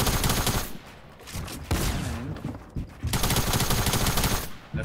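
Loud gunfire in Fortnite, rapid automatic bursts in three clusters separated by short quieter pauses, close and dominant.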